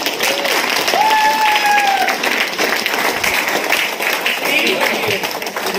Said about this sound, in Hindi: अब एक बार अपने लिए जोरदार ताली बजाइए